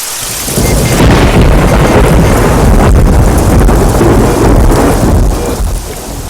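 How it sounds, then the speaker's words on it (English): Heavy rain pours down in a loud, dense, continuous hiss, with low rumbling underneath. "It's raining heavily"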